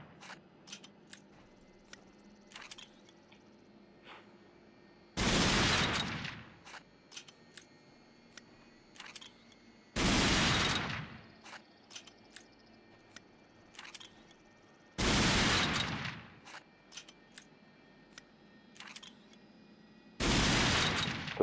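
Gunshots in the video game Rage: four loud, heavy blasts land at an even, unhurried pace about five seconds apart, with faint ticking in the quiet between them.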